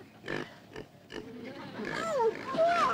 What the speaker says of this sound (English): A pig! A real live pig!